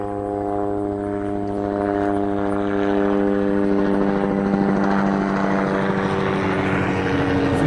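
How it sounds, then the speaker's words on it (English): A helicopter roars close overhead, its steady rotor and engine drone filling the air and swelling louder over several seconds. "We're going to get ran over by a helicopter here"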